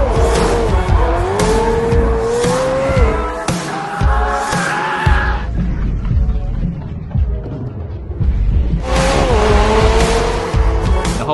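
A loud, high-revving McLaren 765LT titanium exhaust roars and wails through rising and falling gear pitches, easing off briefly before surging again near the end.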